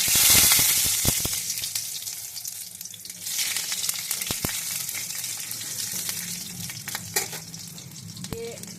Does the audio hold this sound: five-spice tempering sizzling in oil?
yes